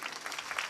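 A brief burst of audience applause at a kirtan devotional gathering, a dense patter of many hands clapping at moderate distance.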